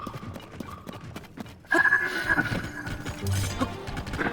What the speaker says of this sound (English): Come here, horse.